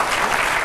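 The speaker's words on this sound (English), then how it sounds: "we can do a clap if you want." Brief burst of steady, dense applause from a conference audience, a crowd clapping together without pause.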